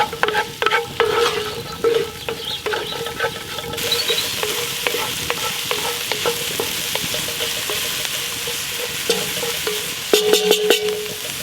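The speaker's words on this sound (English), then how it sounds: "Just cook those down till they soften. The onions go translucent." Onions fry and get stirred in a cast iron Dutch oven over an open campfire, giving a steady close sizzle with scraping stir strokes and a few louder bursts near the end, with no talking.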